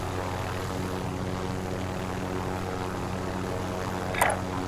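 Steady, droning rotor and engine noise comes from a helicopter in flight in a battle royale shooter game. It holds constant throughout, with a brief bright sound effect near the end.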